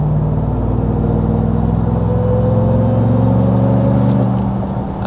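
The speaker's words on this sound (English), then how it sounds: "you can still hear the supercharger whine in sport mode when you're just cruising" A 2024 RAM TRX cruising down the road in sport mode, its engine a loud steady drone with a thin supercharger whine rising slowly above the low rumble, with no talking.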